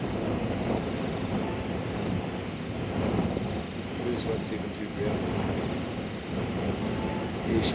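Full-sized Cessna 180 making a gusty crosswind landing at Tokoroa airfield, a steady distant engine drone under heavy wind rumble on the microphone, with people talking nearby.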